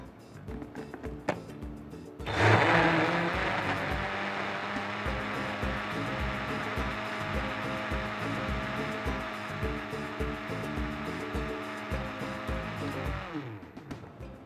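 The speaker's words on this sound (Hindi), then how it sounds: "इसको करते हैं अच्छा सा ब्लेंड।" An electric blender whirs steadily with a strong motor drone, blending two cups of full-fat cream milk. It starts abruptly after a couple of seconds and runs loud and constant for about eleven seconds before stopping.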